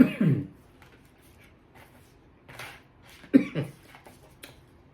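Two short bursts of coughing, one at the start and another about three seconds later, close and fairly loud, with quieter rustling between them while garlic pepper salt seasoning is sprinkled onto turkey.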